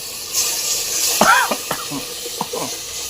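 Chopped tomatoes dropped into a hot tempering for horsegram rasam hiss and sizzle steadily in the pan, while a voice talks briefly over the cooking.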